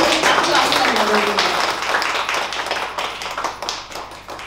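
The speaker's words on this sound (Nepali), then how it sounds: "एकचोटि जोरदार ताली" Applause and clapping from a group, a dense patter of many hands that starts strong and tapers off slightly over a few seconds, with some voices mixed in.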